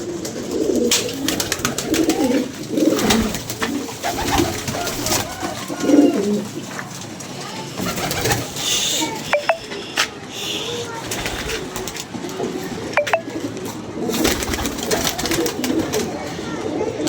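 Pigeons coo softly in the background while people talk nearby, with scattered bird calls and a few sharp clicks.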